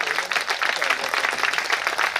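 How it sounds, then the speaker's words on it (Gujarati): A crowd at a Hindu religious gathering honouring a saint breaks into sustained applause, many hands clapping together in a dense, even wash of sound. "આપણે એકવાર હાથ ઊંચા કરીને તાળીઓ નાથી વધાવીએ"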